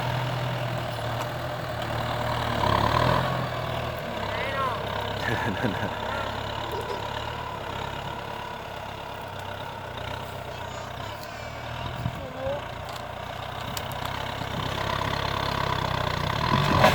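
A Kubota M9540 tractor engine idles with a steady low rumble throughout, occasional clanks and shifts in the background, and no clear speech.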